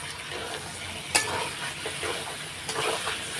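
Masala with salt is stir-fried in a pan for a Bengali home-cooked meal, a quiet sizzle broken by a couple of sharp scrapes from stirring.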